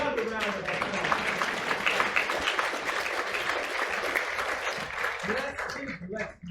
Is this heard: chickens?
no